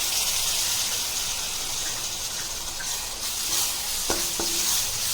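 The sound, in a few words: frying tomato with spices for mushroom curry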